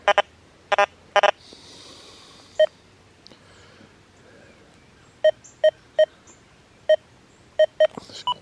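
A metal detector on a single-frequency check program gives its iron signal: a series of short, sharp tonal beeps, some in quick clusters, separated by quiet gaps, with no talking over them.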